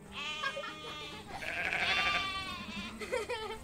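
Sheep and lambs bleat in a few wavering, quavering calls, some high and thin, close by and with no other sounds around them.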